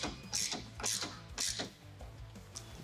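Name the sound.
T55 socket ratchet tightening Tacoma bed bolts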